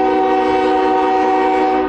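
A Norfolk Southern freight train sounds its horn at a level crossing in Fostoria, Ohio, a loud, steady chord held unbroken and close throughout, with no talk.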